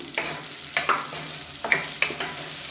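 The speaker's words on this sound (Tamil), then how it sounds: "இது எல்லாத்தையுமே எண்ணெயில் வதக்கிக்கலாம்" Drumstick and potato pieces sizzle in hot oil in a pan while being stirred, with a steady frying hiss under repeated scraping strokes of a utensil, close and clear.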